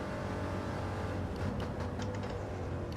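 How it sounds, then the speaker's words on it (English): A car engine in Gran Turismo 7, during a VR lobby race between a Corvette and an Escort, drones steadily, loud and continuous, with a low rumbling tone that rises slightly as it revs. "Oh, engine noise, baby."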